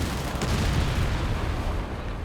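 Heavy Tiger Ace tank cannon fire and battle rumble in Company of Heroes 3 during a large 4v4 match, a dense, continuous boom-filled roar with no clear gaps.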